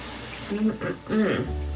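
Tap water runs into a bathroom sink during face washing, a short close splashing burst with brief interruptions as the stream is disturbed by hands, ending in a low hum.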